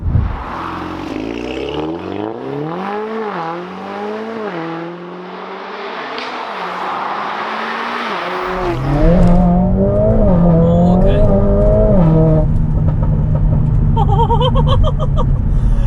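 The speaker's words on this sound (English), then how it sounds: "take this 500 brake horsepower A45S for a quick drive around some lovely country roads" A 500 bhp Stage 2 Mercedes-AMG A45S driven hard on country roads, loud from inside the car, its engine revving up through the gears in rising sweeps with shift breaks, then settling into a steady, strong drone.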